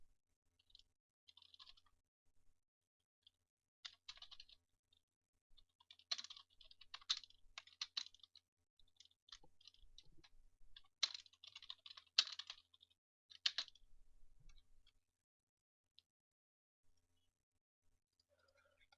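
Keys clatter on a computer keyboard in quick irregular bursts with short pauses, close and fairly quiet, while text is typed into a Word document.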